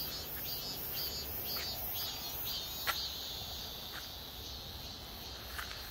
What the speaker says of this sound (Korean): 매미는 삑삑거리고 울어대지만